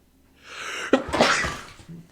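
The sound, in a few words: sneeze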